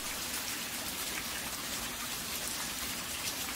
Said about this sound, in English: I wish you a peaceful healing time with the sound of rain.